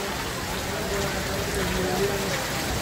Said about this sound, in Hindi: इस बरसात थोड़ी थोड़ी खत्म हो गई है